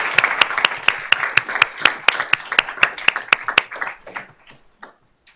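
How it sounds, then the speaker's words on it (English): Applause from a small audience at a school district board of trustees meeting honoring a student award recipient, a few distinct hand claps in a steady rhythm that thin out and fade over the last second. "let's give her a round of applause"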